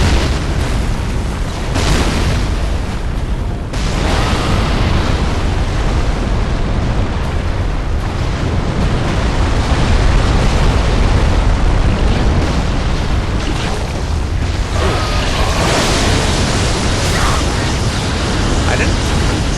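A chaos demon, a sandworm-like creature, unleashes a lightning attack in Dark Souls III: loud crackling blasts and booming bursts roll on continuously for about twenty seconds with no speech.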